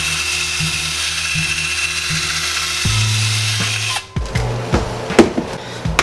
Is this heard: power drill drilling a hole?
yes